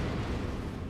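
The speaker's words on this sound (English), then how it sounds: "Sometimes when I shoot the rocket launcher, it makes this weird subtle sound" A rocket launcher firing in a modded Halo 4 video game, heard as a loud, dense, sustained rumbling burst that fills the brief moment on its own.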